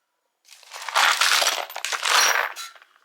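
Plastic bag crinkling while a belt squat machine is unboxed, a close, loud burst of rustling and crumpling lasting a couple of seconds after a short silence.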